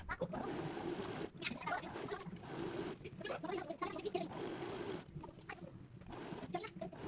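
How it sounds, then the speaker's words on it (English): A sewing machine runs a straight stitch along a fabric fold for a retro jumpsuit, giving a steady mechanical whirring hum broken by a few short pauses between runs. "Sew the fold with a straight stitch 1 centimeter from the edge."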